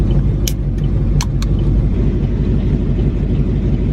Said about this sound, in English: I'm now up and driving to Andy's at 6:30 a.m.